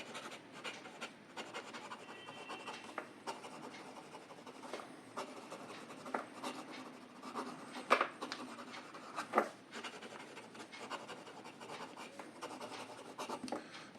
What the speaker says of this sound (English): Now let me show you the fast writing sample.